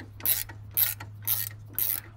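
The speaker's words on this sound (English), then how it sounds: "we'll take a 3/4 inch ratchet wrench and a 3/4 inch standard wrench," Four evenly spaced ratcheting bursts come from a 3/4 inch ratchet wrench loosening nuts on a tractor implement slip clutch, close and crisp against a low steady hum with no talking.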